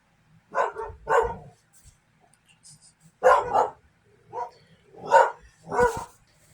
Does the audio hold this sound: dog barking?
yes